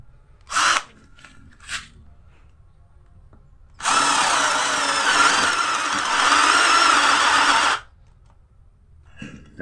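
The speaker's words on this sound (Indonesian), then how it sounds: "Untuk yang pertama kita menggunakan bor kipas di 16 mili. Untuk modenya mode drilling dan di speed 2." A Morris 16.8V brushed cordless drill in drilling mode at speed 2 bores teak with a 16mm spade bit: two short blips, then a loud sustained whine of about four seconds that cuts off abruptly, with no talk.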